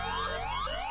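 A wailing ambulance siren in a Hindi comedy film sweeps upward again and again in quick repeating glides, loud and close, filling the short moment alone with no talk.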